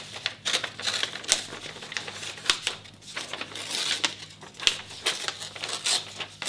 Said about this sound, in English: I just tear this off in kind of regular shape like this